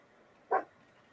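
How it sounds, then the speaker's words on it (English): A single short dog bark, fairly faint and a little distant, against a quiet background. "No barking."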